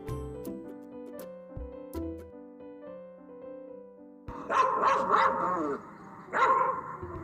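A dog barks several times in quick bursts, loud and close, rising suddenly over soft background music, with a second brief flurry of barks after a short pause.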